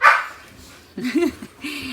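Several short dog barks and yips, one burst at the start and a few more later, fairly close with quiet gaps between.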